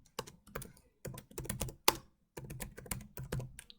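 Fingers tap out a name on a computer keyboard, quick bursts of close, crisp keystrokes separated by short pauses, with no one talking.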